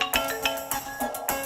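A mobile phone ringtone plays over speakerphone, a melodic electronic tune repeating in short pulses close by.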